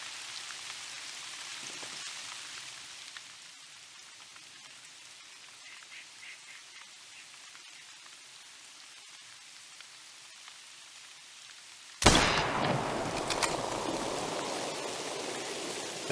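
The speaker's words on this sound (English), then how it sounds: "Nice rain effects." Heavy rain in the hunting game TheHunter, a steady hiss pouring down across the scene that starts abruptly partway through and stays loud, after a quieter stretch of faint ambient wilderness noise.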